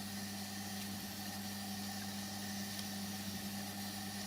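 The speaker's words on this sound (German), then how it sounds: "Das Einzige, was wir hier hören, ist der Motor, das Summen vom Motor und das Schleifgeräusch vom Band." A Dynacord Echocord Super 75 tape echo's steady low electric motor hum runs continuously with a faint scraping, rubbing hiss of tape over it, no voices.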